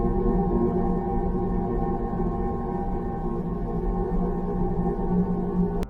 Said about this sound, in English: NASA's Juno spacecraft captured plasma waves from Jupiter's intense magnetic field. When these waves were converted into sound, they revealed a deep, rumbling roar